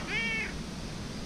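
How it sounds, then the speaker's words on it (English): A cat gives one short, clear meow close by, lasting about half a second, then only a low background hum remains. "Meow."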